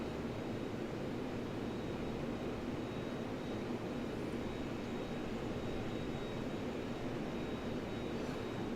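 Both engines of an aircraft drone steadily in flight, a loud, constant broadband roar heard from inside with no talk over it.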